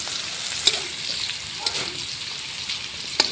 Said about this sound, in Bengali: কাজু, কিশমিশ, তেজপাতা সবজির সঙ্গে ভালোভাবে ভেজে নিলাম।